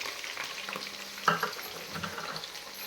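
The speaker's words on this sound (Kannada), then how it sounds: "ಇವೆಲ್ಲ ಒಂಚೂರು ಗೋಲ್ಡನ್ ಬ್ರೌನ್ ಬರೋ ತನಕ ಕೈ ಆಡಿಸ್ಕೋತಿರ್ಬೇಕು." Green chillies and onions fry in a pan while being stirred, producing a soft, steady sizzle with a single clink of the utensil, quiet and close.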